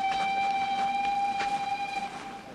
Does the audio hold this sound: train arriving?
yes